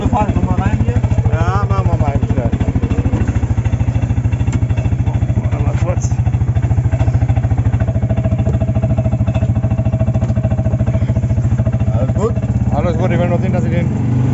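Buggy engine running during a ride in Side, Turkey, loud and close with a steady throbbing drone throughout, while people talk over it.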